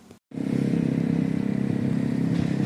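A motorcycle engine idles close by with a steady low throbbing rumble, starting after a brief silent gap.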